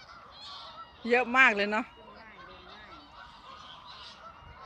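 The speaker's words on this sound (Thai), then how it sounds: "เป็ดมาทุกปีเลยนั่นในเป็ดเนี่ยอุ้ยมันเยอะจังเลยเนี่ย" A flock of ducks honking and calling in a dense, distant chorus throughout, with a short burst of close speech near the start.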